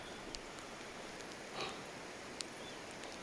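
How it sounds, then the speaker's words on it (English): Heavy rain pours down outdoors as a steady, even hiss with a few scattered drip clicks, quiet and without any voices. "So if you can't tell, pissing it down."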